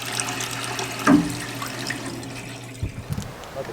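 Water runs steadily from a tap, a continuous hiss with a brief louder splash near the start and a few small clatters toward the end.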